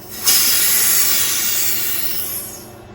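Air hisses steadily from a resin bubble remover pressure pot as its plug is pulled, starting abruptly and then slowly tapering off, loud and close.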